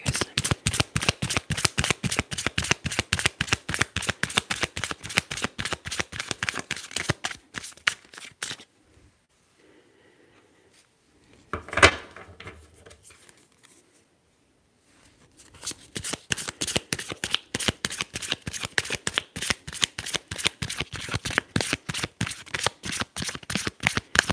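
Tarot cards being shuffled in a quiet ASMR setting, a long run of crisp riffling flutters, then a pause with a single soft snap as a card is drawn, followed by more steady riffling shuffles, close and intimate.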